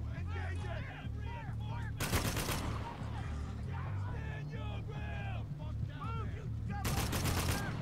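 Video game gunfire in Spec Ops: The Line, with two loud bursts of rapid automatic fire that stand out against continuous game noise and shouted voices.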